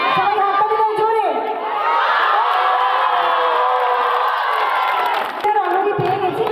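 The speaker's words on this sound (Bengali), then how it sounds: "সবাই হাততালি দাও জোরে" A large crowd cheers and shouts steadily at a high school sports day in Bagnan, a loud, continuous roar of voices with whoops that swells and stays close throughout.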